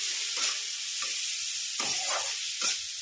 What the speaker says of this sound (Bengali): এই দেখুন পেঁয়াজ ভেজে নিলাম